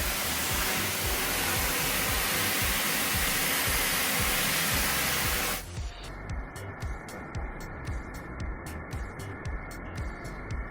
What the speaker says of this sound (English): that's really a pressured washer